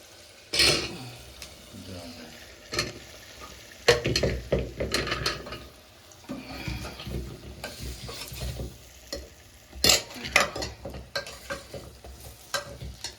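Vegetables sizzling in spiced oil in a home kitchen pan, with a continuous hiss and repeated scraping and clanking of a spoon as they are stirred, a few louder bursts standing out.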